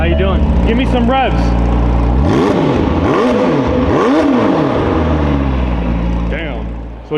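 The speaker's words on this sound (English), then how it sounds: "Give me some revs." A loud engine revs hard, pitch sweeping up and down in several surging bursts, with a voice heard briefly near the start.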